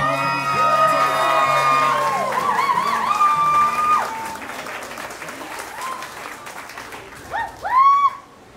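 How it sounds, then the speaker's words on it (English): Loud, sustained applause with cheers and whoops from a wedding reception crowd welcoming the newlyweds, fading after a few seconds, then a brief burst of shouting near the end. "huge round of applause for Mr. and Mrs. Smith."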